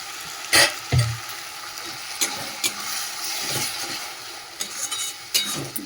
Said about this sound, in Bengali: আদা রসুনের মধ্যে যে টমেটো আর কাঁচা লঙ্কা বেটে রেখেছি, ওটাও দিয়ে দেবো।